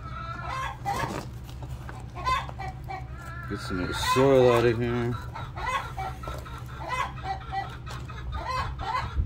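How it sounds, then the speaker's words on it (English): Hens cluck and squawk close by, one rising into a loud drawn-out cackle midway, while a person speaks briefly over the birds. "Those are chickens. Just laid an egg or something. That's why they're making that noise."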